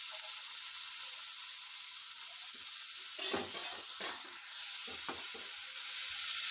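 Chopped cabbage sizzling in hot oil in a pan for veg chowmein, a steady bright hiss throughout with a few scraping stirs in the middle, close and continuous.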